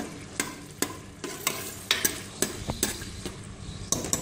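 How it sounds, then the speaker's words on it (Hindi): Chopped tomatoes frying in half a cup of oil over a medium flame for mutton achar gosht, with a steady soft sizzle broken by repeated sharp clinks of a spoon stirring against the pan, close and moderately quiet. "आधा कप ऑयल लिया है, उसके अंदर मैंने अपना जो कटे हुए चॉप टमेटोज थे मेरे पास, जो मेरे टमाटर थे वो मैंने डाल दिए हैं"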